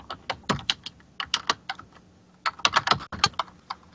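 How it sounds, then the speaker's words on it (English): Quick bursts of clicky keystrokes on a computer keyboard, close and crisp, in two uneven flurries separated by a short pause. "Are you typing or is Mario typing?"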